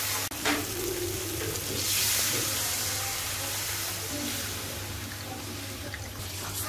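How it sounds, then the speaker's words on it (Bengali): Ground turmeric, coriander and cumin frying together in a pan for a fish curry, a steady close sizzle with stirring scrapes that rises briefly in the middle before settling. "মশলাটা ভালো করে ভাজা ভাজা করবে।"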